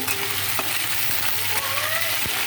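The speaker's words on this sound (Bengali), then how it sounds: "রাঁধুনি ফোড়ন দিয়ে মুখি কচুগুলো দিয়ে দেবো" Taro pieces go into hot oil tempered with radhuni seeds and crackle in a steady, close sizzle with a few faint stirring clicks, and no voices.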